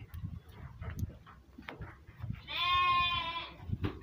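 Boer and Etawa crossbred goats in a farm pen; one clear, drawn-out bleat rises midway, with soft shuffling and faint background noises around it, fairly close.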